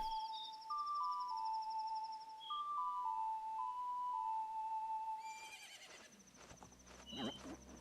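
A horse in Majora's Mask whinnies with a brief high neigh near the end, following repeated chiming game tones and soft background ambience, faint overall.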